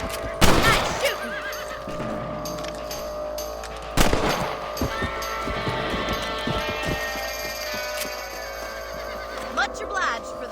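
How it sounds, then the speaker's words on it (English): Gunshots from hunting rabbits in the Red Dead Redemption video game, two sharp reports standing out over horse whinnies, hoofbeats and game background sound, with voices talking. "Better at shooting rabbits than outlaws, I see."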